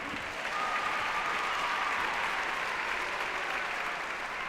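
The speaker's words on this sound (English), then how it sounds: "One more round of applause." An audience at a Martin Luther King Jr. Day celebration claps steadily, a dense, even wash of applause filling the whole stretch without a break.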